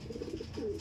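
Pigeons coo in a loft, a soft, low burbling call repeated briefly and close.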